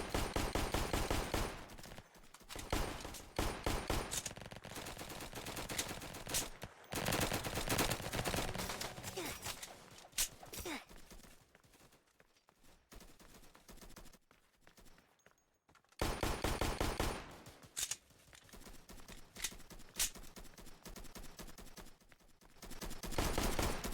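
Rapid bursts of gunfire from a starter pistol in the Roblox game Flag Wars, loud, dense volleys crackling in quick succession, pausing briefly mid-clip before another sustained run of shots.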